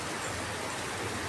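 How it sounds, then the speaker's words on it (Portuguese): Steady, even hiss of rain falling while the sun shines in a town in Northeast Brazil, soft and continuous with no breaks and no voices. "Chovendo e fazendo sol."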